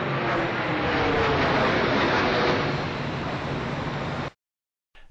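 An airplane roars overhead at low altitude in New York City on 9/11, a loud, broad rushing engine noise that holds steady for about four seconds and then cuts off abruptly, leaving near silence.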